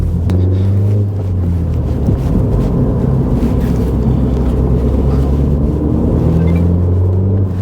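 A 2021 F56 Mini Cooper S with its muffler removed gives a loud, deep, steady engine rumble with a boomy low drone, running continuously without pops or crackles.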